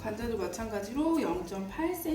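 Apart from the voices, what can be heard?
No everyday noise stands out behind the speech.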